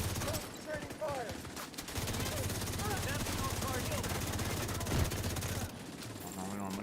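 Rapid video game gunfire crackles in dense, sustained bursts during a raid with random teammates, and a player's voice talks over the shooting throughout.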